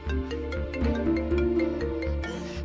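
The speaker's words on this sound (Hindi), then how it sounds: "जीनिया बाजी का फोन आ रहा है।" A phone ringtone plays an incoming call melody, a tonal repeating tune heard clearly at moderate volume indoors in a domestic drama scene.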